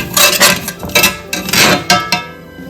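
Fennel seed, crushed red chilies and whole spices are stirred in a pan. A metal spoon scrapes and clinks against the pan in close, rhythmic strokes, loud and busy throughout.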